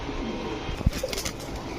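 Pigeons at a pigeon seller's loft give soft low coos close by, with a brief sharp knock and faint rustling in a quiet room.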